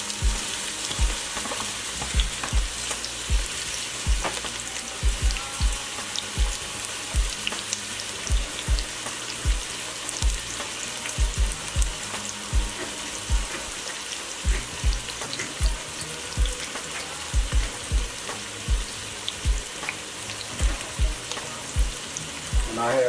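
Onions fry in olive oil in a Dutch oven with a continuous sizzle and repeated scraping stirs. Regular utensil knocks and clatter sound close by.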